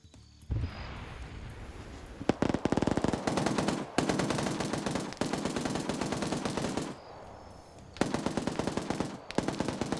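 Rapid automatic gunfire in a PvP shooter video game, loud bursts of rattling shots in several long strings separated by short pauses, close and dominant with no talking.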